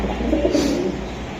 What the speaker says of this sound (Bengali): ভাই এটা লাল পাত্তি কবুতর, বাবা বুলডোজার।